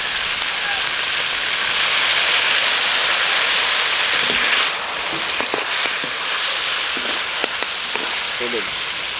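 Dried fish (tuyo) fries in hot oil in a pan, giving a loud, continuous sizzle that eases slightly partway through, with scattered small pops and crackles.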